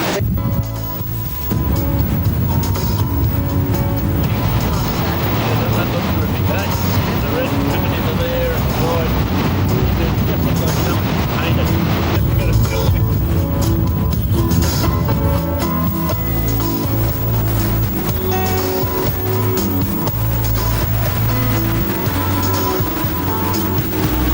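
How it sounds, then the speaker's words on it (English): A vehicle labours in soft sand in the wrong gear, its engine loud and close with a droning rumble that strains and sags as it loses power and bogs down, with a voice talking over it. "Frank demonstrates by not choosing the right gear in the soft sand, the vehicle runs out of power and bogs immediately"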